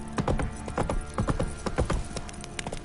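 Roach, a horse in The Witcher 3, gallops with rapid, loud clip-clop hoofbeats in an uneven rhythm that carries throughout, close by and alone, with no talking over it.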